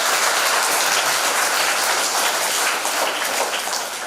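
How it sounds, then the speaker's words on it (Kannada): An audience at a Kannada poetry gathering and book distribution event claps steadily, a dense, even wash of applause held at full strength for a few seconds before easing slightly at the end. "ಎಲ್ಲರೂ ಕೈ ಚಪ್ಪಾಳೆ ಕೊಟ್ಟು"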